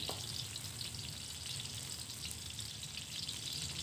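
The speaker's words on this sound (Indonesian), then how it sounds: "ini bawangnya akan saya biarkan dulu di wajan ini supaya lebih matang" Steady, quiet sizzling of garlic frying in hot oil in a wok, a continuous crackle with no talking.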